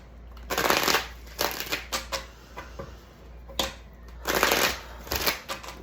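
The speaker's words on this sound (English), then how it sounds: "let's go ahead and shuffle and get into it" A tarot card deck is shuffled in several quick riffling bursts separated by short pauses, close and crisp.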